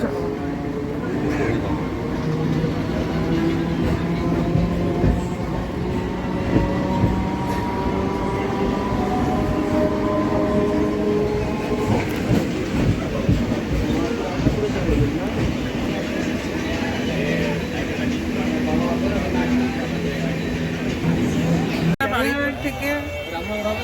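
Train rolling along the rails from Sealdah in Kolkata, heard from inside the carriage: a steady, loud rumble with rhythmic clatter and shifting tones, and voices faint beneath it.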